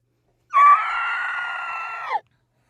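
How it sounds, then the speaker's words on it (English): A banshee scream sound effect: one shrill, wailing shriek lasting under two seconds, starting sharply, holding steady, then cutting off into silence. "once you hear the Banshee scream"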